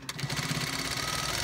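A sewing machine running steadily while stitching the elastic waistband of sweatpants, a fast, even mechanical whir with a rapid needle rhythm, close and continuous after a brief start.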